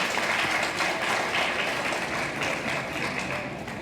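Steady, warm applause from an audience at a French school eloquence tournament quarterfinal, greeting the Vie de France team; dense, continuous clapping close and full for the whole stretch, with no voices over it.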